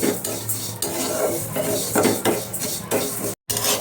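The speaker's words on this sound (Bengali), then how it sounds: "ডাউলগুলো নিয়ে সুন্দর করে ভাজবো" Lentils being dry-fried in a wok for khichuri, with steady scraping and clattering of a metal spatula against the pan over a faint sizzle and continuous stirring, close by, with no speech.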